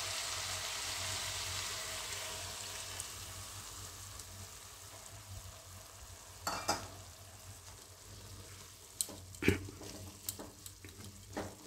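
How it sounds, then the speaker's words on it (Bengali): Steady frying hiss from a potato and pea curry in a pan, with water poured in so the sizzle swells, followed by a few sharp clinks and scrapes of stirring near the end. "এবার আমি জলটা দিয়ে দিচ্ছি।"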